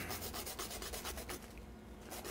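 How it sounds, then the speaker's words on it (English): A whole nutmeg pod is grated by hand for a rabbit braise, giving a steady run of close, dry scraping strokes in a quick repeating rhythm, with no talking. "I'm going to grind or grate some nutmeg in there"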